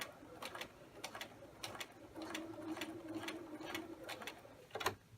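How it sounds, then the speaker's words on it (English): A sewing machine stitches a diagonal line across a self-lined patch pocket. The needle taps in short, irregular bursts with brief pauses, heard faintly and close by. "I'm pivoting all the way around so I can do my diagonal stitching down to my 3/4"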